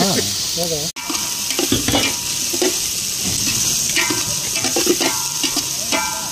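Food sizzles loudly in oil as it is stirred, with a continuous close hiss of frying broken by repeated scraping and stirring strokes in the pan.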